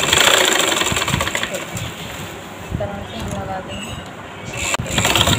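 A sewing machine stitches a belt-style salwar, its rapid mechanical clatter running in bursts under a nearby speaking voice.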